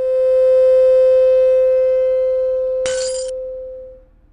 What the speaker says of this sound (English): the glass was shaking, and it was shaking so strongly that it finally fell apart